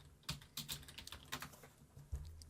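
Fingers tap a computer keyboard in an uneven run of light, close clicks with short pauses between bursts, quiet and with no voices.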